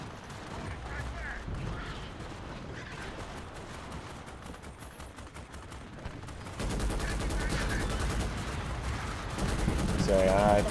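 Plasma grenadier fire in Starship Troopers Extermination: distant rattling weapon bursts under a busy battlefield din, growing louder and denser partway through as shots crowd together.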